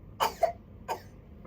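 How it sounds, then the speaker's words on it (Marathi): A person coughs three times close by, two quick coughs followed by a single one after a short pause, with quiet surroundings. "खोकला आला"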